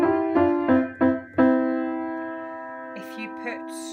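Sustained harmonic tones move in short steps, two voices sounding together a third apart, then one long held chord that slowly fades with faint noises at the end.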